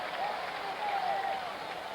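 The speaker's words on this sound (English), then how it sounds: "Didn't take long for this crowd to get something to cheer about." Baseball crowd at a 1975 World Series game cheering and applauding, a dense steady roar from a large stadium audience, briefly rising in the middle.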